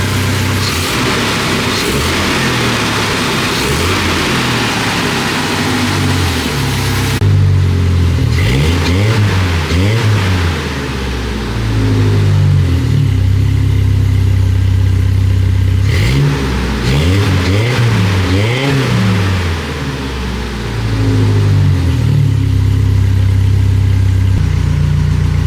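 Jeep engine fitted with Flashark racing headers and a small leak underneath, revving hard several times in close, loud bursts that rise and fall over a steady idle, with no voices.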